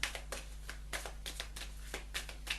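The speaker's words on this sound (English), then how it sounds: "ask now while I'm shuffling these angel cards" Angel oracle cards are shuffled quietly, giving a regular run of soft riffling flicks roughly every quarter second over a low steady hum.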